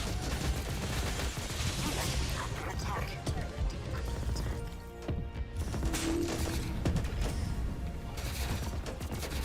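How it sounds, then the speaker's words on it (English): Explosions and rattling gunfire crackle through a battle in the roguelite RTS game Rogue Command, a dense busy mix of blasts and mechanical clatter under someone talking. "There's a big ass explosion."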